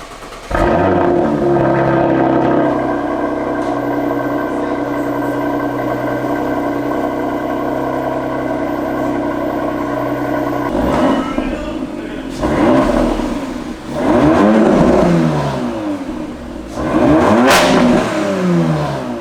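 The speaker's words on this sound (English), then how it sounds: "Just going to do a quick little cold start now, system's all on, see how it sounds." An Audi RS4 engine cold-starts and settles into a steady idle, then several sharp revs rise and fall toward the end, loud and close with no one talking.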